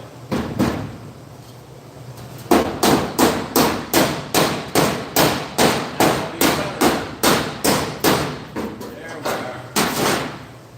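Hammer tapping out a fresh weld, a steady series of about twenty loud, close knocks at an even pace after a few scattered opening blows.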